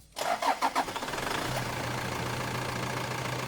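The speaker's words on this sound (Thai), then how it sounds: "เดี๋ยวจะมาลองสตาร์ทฟังเสียงเครื่อง" A Toyota Sport Cruiser engine cranks with a few quick starter chugs, catches, then settles into a steady, low idle nearby.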